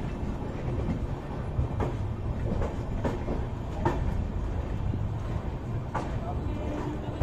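The Amrit Bharat Express rolls into Gorakhpur Junction, a steady low rumble of the train with faint clicking from the wheels on the rails and wind-like noise throughout.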